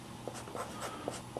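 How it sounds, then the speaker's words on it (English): A pen writes a number on paper in quick scratchy strokes, several short bursts close to the mic with brief pauses between, alone and fairly faint. "Go ahead and write that down."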